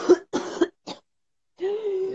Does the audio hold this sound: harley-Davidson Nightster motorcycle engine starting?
no